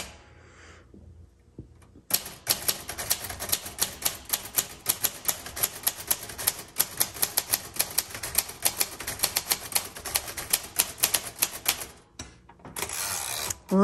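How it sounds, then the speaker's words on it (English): Continuous close-up typing on a 1938 Royal Model O manual typewriter, rapid crisp key strikes at an uneven rhythm with a carriage return near the end. "It's a very sweet, but stable and confident typewriter."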